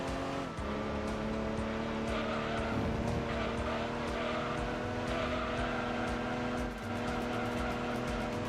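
A race car in Gran Turismo 2 runs under steady engine whine and understeers, its tires skidding with a sustained screech as the car pushes wide through a corner.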